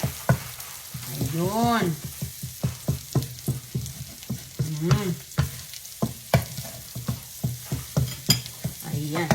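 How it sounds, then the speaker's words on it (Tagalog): Eggs scrambling in a hot pan, sizzling and crackling steadily while a utensil scrapes and stirs in quick rhythmic strokes, with a brief spoken word in the middle. "So lulutuin lang natin ang eggs. Parang scramble egg lang siya."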